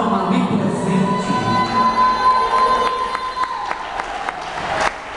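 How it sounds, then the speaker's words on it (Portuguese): A crowd claps and cheers briefly, the applause thin and fading out after a few seconds, with a sustained tone and scattered noises following. "As palmas foram bem fraquinhas, não foi?"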